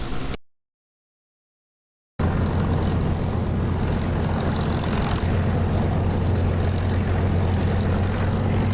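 A propeller aircraft engine drones steadily at a low, even pitch as the plane taxis toward a runway in the DCS flight simulator, heard after a brief cut to silence.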